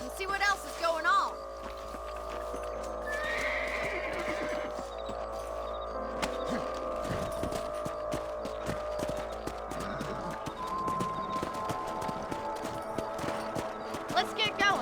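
Horses move in a western-themed video game with rhythmic clip-clop hooves under a constant background hum, while people talk over them throughout.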